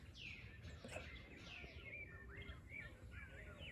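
Birds call and chirp near a woodpecker's nest in Guatemala, with several sweeping, whistled notes repeating at moderate distance over a soft, steady outdoor background.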